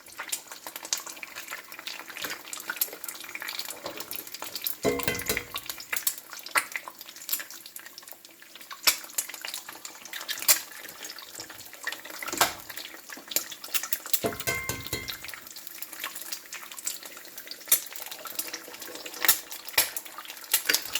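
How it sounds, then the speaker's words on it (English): Freshly laid farm eggs crackle and sizzle in a very hot pan after the burner is switched off, a continuous close spitting texture with occasional louder pops and brief clatters. "I like my eggs when they sizzle like this"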